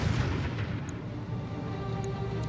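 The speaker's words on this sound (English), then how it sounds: "Firing all weapons." Roguetech mech battle game, a mech firing all its weapons at once: a dense rumbling volley of booms and blasts running continuously through the whole moment, loud and close, with no talk over it.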